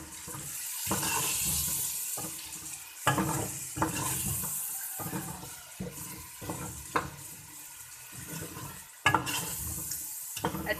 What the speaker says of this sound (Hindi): अब हम इसमें जो हमने पेस्ट बनाया था वो ऐड कर लेंगे।